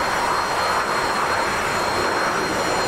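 Loud, steady roaring rush from a warbird's aircraft engine in a steep dive in the flight simulator DCS, a dense continuous drone with no pauses and no talk.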